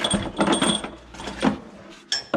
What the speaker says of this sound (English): I'm gonna grab these bolts from the bucket, so I'm digging out of